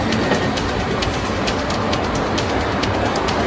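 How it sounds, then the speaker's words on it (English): Loud, continuous rumble of a train passing close by, with rhythmic clicking of wheels over the rails. "Wait a minute. This is our train."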